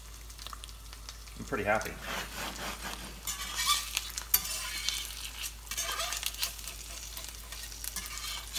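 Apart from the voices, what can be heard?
eggs frying in a Field Company cast iron skillet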